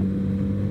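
Kawasaki Z900RS motorcycle with its water-cooled engine, a steady loud low mechanical drone with strong harmonic rumble held throughout the brief moment, no pauses or voices.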